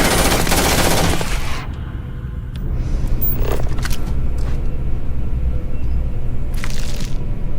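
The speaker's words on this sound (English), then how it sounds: "Opening fire." Gunfire in the video game Starfield: a dense, loud burst of automatic shots for about a second and a half, then a steady rumbling game backdrop with a few sharp cracks scattered through.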